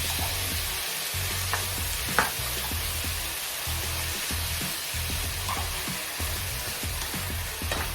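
Beansprouts sautéed in a pan with onions and tomatoes give off a continuous close sizzle, broken by a regular rhythm of spatula stirring strokes and one sharper clank, with no talking.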